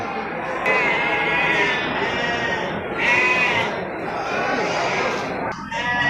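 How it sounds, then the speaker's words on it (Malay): Big-horned sacrificial sheep bleat repeatedly at a crowded livestock market selling sheep and goats, with several loud calls rising over a constant din of chatter and people talking nearby. "Ini satu domba tanduk besar ini kan, kategori domba untuk kurban di pasar hewan biru ini kan"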